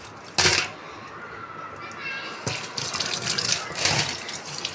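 Silver anklets are rinsed in water, with splashing bursts of running water and swishing, one loud gush near the start and more sloshing toward the end, close and fairly loud.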